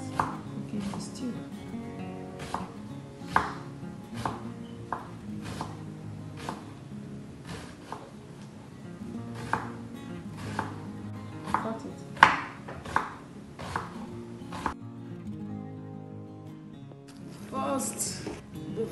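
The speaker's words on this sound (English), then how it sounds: "Now I'm going to chop our tomatoes, slice it, then we start cooking the stew." A knife chops and slices tomatoes on a board for Nigerian chicken stew, a steady series of crisp close cuts over quiet background music, pausing briefly near the end.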